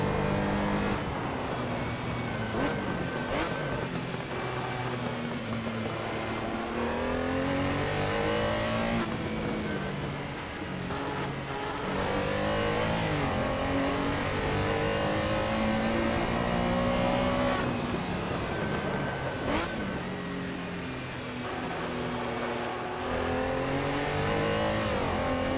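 Race car engine in Assetto Corsa, played on a DS4 controller, revving and shifting steadily through gears for the whole stretch, loud and close with rising and falling pitch sweeps.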